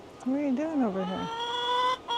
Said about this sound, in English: This is one of the gnarly hens we got from that lady.